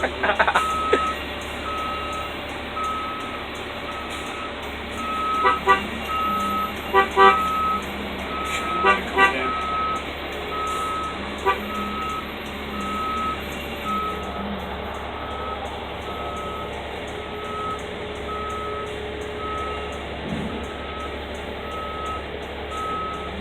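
A school bus at a bus lot, heard as repeated loud reversing beeps in a regular pulsing rhythm over a low idling diesel engine, with a few short toots and a brief air-brake hiss near the end.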